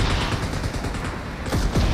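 Gunfire in PUBG Mobile during a RageGear team deathmatch, a dense rattling volley of shots over continuous loud vehicle and battle noise, with sharper sweeping blasts near the end.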